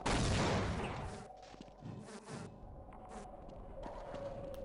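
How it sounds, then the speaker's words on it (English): Alien hive bees from the video game Half-Life buzz insistently around the player. A loud burst at the start gives way to a continuous near, droning whine with small clicks from the game. "Damn the bees!"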